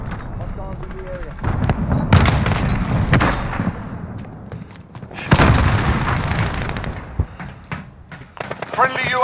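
Cruise missile explosions in the video game Call of Duty Modern Warfare, two big booming blasts about three seconds apart amid gunfire, with shouted voices and radio chatter throughout.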